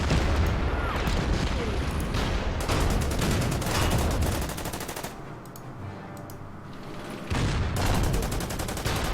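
Sustained battlefield gunfire from the war strategy game Order of Battle, set in a desert campaign toward Tunis, rattles in dense loud bursts, dips into a quieter low rumble midway, then resumes with crackling shots.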